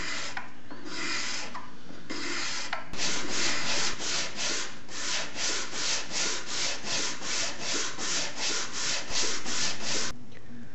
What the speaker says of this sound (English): a cabinet scraper and then a flexible sanding strip such as this one here is what's really going to finesse the curve